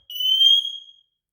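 An alarm, most likely a smoke detector, sounds once: a single shrill electronic beep, loud and close, lasting just under a second before stopping into silence.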